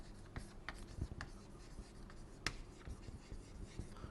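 A pen scratches across paper in short, close strokes and taps while drawing a free body diagram of a back wheel, with quiet pauses between marks.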